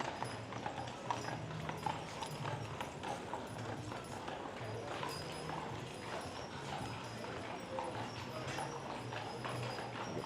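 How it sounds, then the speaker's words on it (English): Horse hooves clip-clop in a steady, even rhythm as a horse-drawn carriage moves along a street in downtown Mackinac Island, fairly distant and quiet over faint background noise. "horse is catching up on me, so I better get over here so that way you can pass me up"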